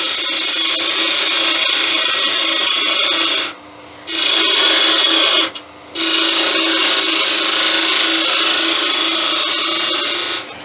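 Skew chisel cutting a spinning wood piece on a lathe: a loud, steady bright rasping hiss that breaks off twice for short pauses, then resumes and runs on alone.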